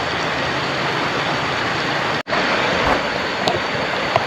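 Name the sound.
rain at a riverside campsite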